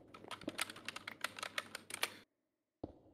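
Fast, busy typing on a computer keyboard: a rapid flurry of clicky keystrokes for about two seconds, then silence, then one last tap.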